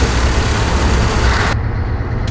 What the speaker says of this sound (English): I'll drive each truck up this hill and I'll let you guys decide which V8 sounds best